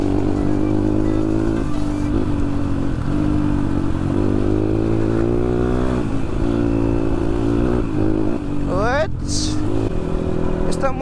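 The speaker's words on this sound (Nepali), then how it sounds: "यस्तो मजासँग हो नि त अफ रोडमा बाइक लाने" An off-road motorcycle ride: the engine drones steadily and close, rising and falling as it revs, with rattling and a short scraping clatter near the end, and voices heard over it.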